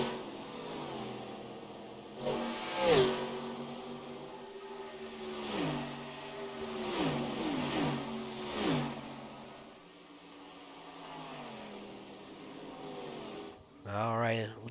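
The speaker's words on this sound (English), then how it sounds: "Listen to these cars just fly by." Several race cars roar past one after another at a night race, engines revving and whooshing by at a distance, with a voice talking faintly underneath.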